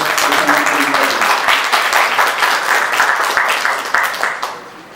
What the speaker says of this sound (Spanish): le pedimos un aplauso